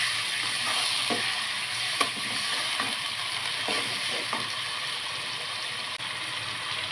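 Garlic, onion and ginger fry in a pan for chicken biryani, giving a steady, close sizzle with a few soft stirring knocks and scrapes against the pan.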